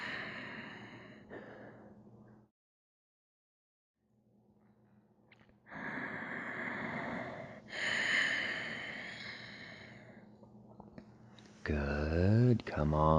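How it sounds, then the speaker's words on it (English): Close, slow yoga breathing in and out through the nose: long airy inhales and exhales with a fully silent pause between them, and a brief voiced sound near the end. "Inhales through your nose. Exhales out your nose."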